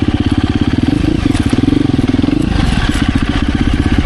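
2024 KTM 350 EXC-F dirt bike engine being ridden, loud and close, with a rapid throbbing four-stroke pulse that rises briefly in pitch as the rider revs, then drops back.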